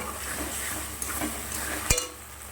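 Onion fries in a pan with ginger-garlic paste, cumin, coriander and whole dried chillies, giving a steady near crackle and sizzle with one sharp metallic clink near the end.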